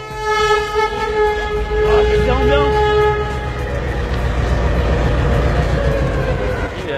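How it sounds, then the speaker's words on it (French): A train pulling into Ferizaj station in Kosovo, loud and close, with a long sustained horn blast near the start over heavy rumbling wheels and rolling carriages that continue steadily, voices faintly mixed in. "il arrive ce train ou quoi là?"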